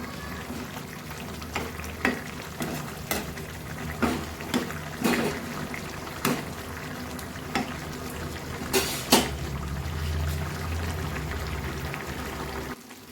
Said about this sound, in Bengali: এরপর আমি এক এক করে মাছটা দিয়ে দেব। মাছটা একটু ঝোলের সঙ্গে ফুটে যাবে।